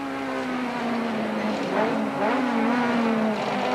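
Modified race cars in a Class C battle sweep past on the Killarney circuit, a loud sustained engine drone with shifting pitch as several cars go by, no talk.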